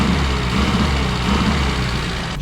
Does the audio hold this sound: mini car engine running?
yes